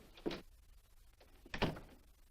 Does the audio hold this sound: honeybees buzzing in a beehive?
no